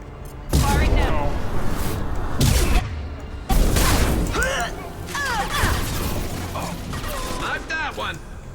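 Mass Effect 2 gunfire cracks in heavy bursts mixed with impacts and mechanical clatter, loud at first and then recurring, while a voice talks over the action.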